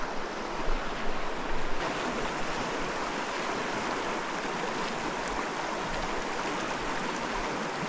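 Fast-flowing stream water on a trout stream, with a side chute, rushes in a steady, loud broadband wash that never lets up, close to the microphone and free of talk.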